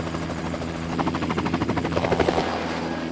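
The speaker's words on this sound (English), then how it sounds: "The helicopter will be there in minutes." Helicopter arriving in the Carmen Sandiego game Treasures of Knowledge, its rotor chopping in a fast rhythmic pulse that swells louder as it draws near, with no other sound.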